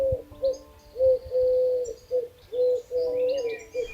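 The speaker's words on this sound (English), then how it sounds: "The collared dove, on the other hand, just sings his name" A collared dove coos nearby in a repeated three-part phrase, its soft hooting notes spaced in a steady rhythm against quiet background.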